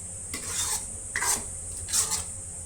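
Paneer gravy is stirred in a pot in a home kitchen, three distinct scraping strokes of a spoon against the pan over a soft simmering sizzle, with no voices.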